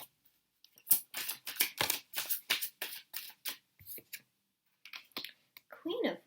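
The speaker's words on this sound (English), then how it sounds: "I just feel like shuffling all the cards out first, so that's what I am doing" Tarot cards shuffled by hand in a run of rapid, crisp riffling bursts and flicks, close up, with short pauses between and a brief voice near the end.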